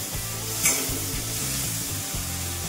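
Tomatoes and onion sizzle in a pan over medium gas, with a spoon stirring in a steady rhythm of soft scraping strokes over the frying hiss, close and fairly loud, no talking.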